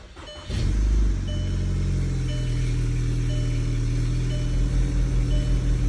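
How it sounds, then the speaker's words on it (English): 2012 VW Tiguan with a catless downpipe and stock exhaust starting up, then settling into a steady, deep idle with a low droning rumble, close and fairly loud throughout. "So all this is a catless downpipe back to stock exhaust, so it shouldn't be too loud."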